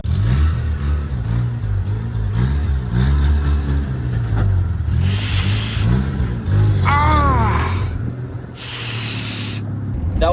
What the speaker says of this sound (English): That was like the smallest speed bump I know anywhere, and I still scraped on it.